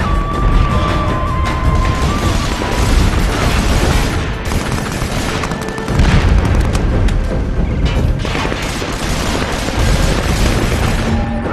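Grenade explosion in the Socom 4 video game, a loud sustained boom with crashing debris and rumbling battlefield noise throughout, no voices.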